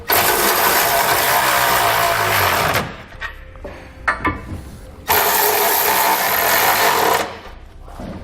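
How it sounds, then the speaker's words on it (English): A 22mm socket on a power ratchet snugs the bolts of a Curt trailer hitch receiver on a 2007 Hummer H3, two loud rattling mechanical bursts of a few seconds each with brief clanks of hardware between them. "I'm going to come back with a 22mm socket and snug up all my bolts."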